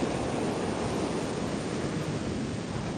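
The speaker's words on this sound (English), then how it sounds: "I'm hoping the mic is muffling a lot of the breeze" Strong wind and breaking surf on Brighton beach on the English south coast, a steady, loud, dense roar of waves and gusts buffeting the microphone, with no voices.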